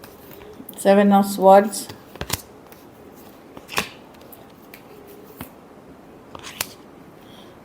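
Tarot cards are shuffled in a few brief papery riffles and snaps spread across the clip, with a person talking between them.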